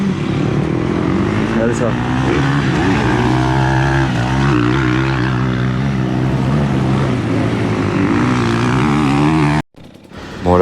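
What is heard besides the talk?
motocross motorcycles riding on the circuit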